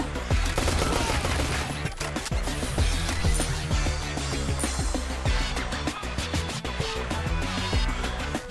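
Dense, continuous rapid gunfire from the video game Jydge, loud and chaotic with overlapping shots and explosions throughout.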